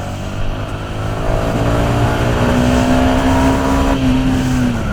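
A 2021 Yamaha XSR 125 motorcycle accelerates steadily, its engine note rising in pitch and holding loud and close for several seconds, with no talk over it.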